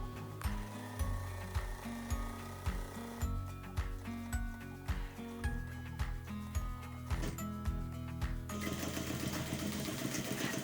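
A sewing machine stitches a piece for a baby kit slowly and steadily, finishing with a backstitch. Its rhythmic mechanical chatter runs close and loud throughout with no talk, and the pace changes near the end.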